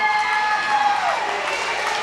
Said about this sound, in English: The crowd is going crazy right now.